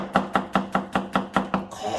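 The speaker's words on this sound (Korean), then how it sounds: "양파는 채를 치는데요." A kitchen knife slices an onion into thin julienne strips for japchae, seven quick, evenly spaced chops striking a cutting board up close.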